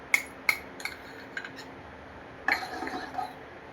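A spoon stirring jowar flour batter in a pan on a gas stove gives scattered light metallic clinks against the pan, a few spaced taps followed by a busier cluster of scraping and clinking.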